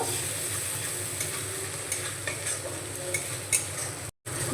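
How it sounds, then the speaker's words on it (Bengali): Masala paste with ginger paste fries and is stirred in a pan: a dense, continuous close sizzle with a few scraping strokes of the spoon, then a sudden short cut to silence near the end. "এবার আমি মশলাটাকে খুব ভালো করে কষিয়ে নেব।"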